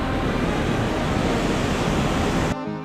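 Ocean waves crash and wash onto a beach on Cape Verde, a broad continuous roar of surf that cuts off abruptly near the end, with no voices.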